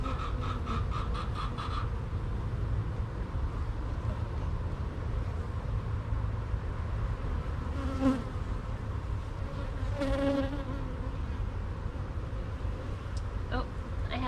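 A honey bee swarm in a hive drones with a continuous low buzz throughout a hive inspection, close and steady, with brief sounds of a person talking and handling the hive at moments.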